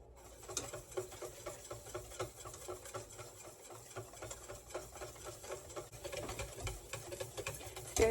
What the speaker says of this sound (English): And you wanna be whisking the whole time.